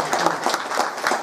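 A crowd at a government development corporation event in Masrund, Himachal Pradesh, claps for the chief minister in a short burst of uneven, rhythmic hand claps, moderately loud and close.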